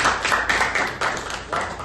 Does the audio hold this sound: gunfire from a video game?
no